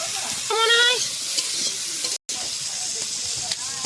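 Cumin and coriander powder frying in a pan on a wood-fired stove, stirred with a steady sizzle and scraping, close and fairly loud, with a brief faint voice.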